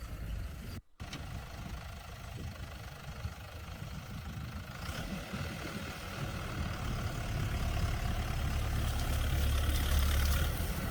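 Farmer 10286 tractor engine running during a turning test in a field, a steady low rumble that grows slightly louder and heavier toward the end, with no talk.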